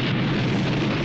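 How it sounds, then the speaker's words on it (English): An explosion in the 1982 film The Thing, a loud, dense, roaring blast filling the whole brief moment with sustained rumbling noise. "Explosions are crazy."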